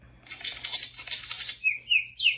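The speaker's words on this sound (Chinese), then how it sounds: "小鸟的声音" Chirping birdsong plays from a children's sound book, with a quick run of bright tweets followed by three sharper, louder whistled calls, played alone.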